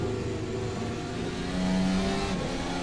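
A Red Bull racing car engine at high revs on an onboard lap of the Red Bull Ring, its steady loud tonal whine climbing slightly in pitch as it accelerates, close and continuous.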